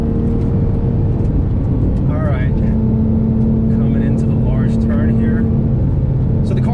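Porsche 911 997.1 GT3 flat-six accelerating hard out of a corner on a race track, a loud steady in-car engine roar with a rising tone throughout, while a person talks over it.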